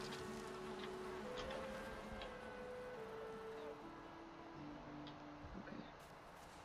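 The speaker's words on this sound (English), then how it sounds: "Bees." Bees buzz in the video game Valheim, a steady droning hum whose pitch drifts up and down as the insects move around nearby, continuous for several seconds with faint background ambience and no speech.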